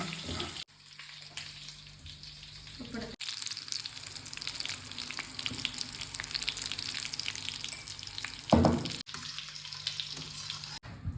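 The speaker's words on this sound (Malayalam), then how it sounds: "നമ്മുടെ ചിക്കൻ്റെ മസാലയ്ക്ക് വേണ്ടിയിട്ടുള്ള ഉള്ളി ഇവിടെ റെഡി ആയിക്കൊണ്ടിരിക്കുകയാണ്" Onions cook in a pan for a chicken masala, giving a soft, continuous frying hiss that is broken by abrupt cuts and a brief louder clatter near the end, with no talking.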